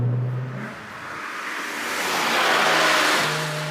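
A Porsche 997 GT3 RS engine revs up freely, the flat-six note climbing in a smooth, loud sweep that rises and holds before easing off, heard close with no talking.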